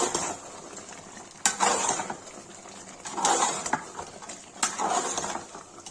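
A spoon stirs Kashmiri mutton masala with red chilli in a cooking pot used in place of a handi. Three separate bouts of scraping and clinking against the metal sit over a soft sizzle, close and fairly loud.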